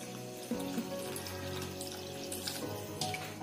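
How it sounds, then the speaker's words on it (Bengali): Water poured into a pan of homemade chilli chicken with Kashmiri chilli powder, a steady running, splashing flow that holds close and fairly loud for a few seconds, with a louder onset near the start. "আমি একটু জল অ্যাড করছি এর মধ্যে।"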